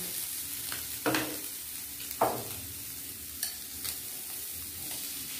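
Chopped vegetables and sago frying in a pan while being stirred, a soft steady sizzle broken by a few scraping strokes of a spatula against the pan, close and fairly quiet with no talking.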